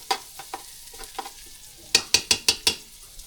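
Frog meat with plenty of ginger frying in a pan, a soft close sizzle under sharp metal spatula scrapes and taps, light strokes first, then five louder, quicker clacks near the end.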